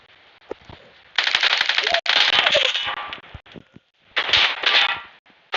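Automatic gunfire in a video game comes in loud, rapid bursts: two long volleys back to back, then a shorter one after a brief pause, with scattered single clicks between them.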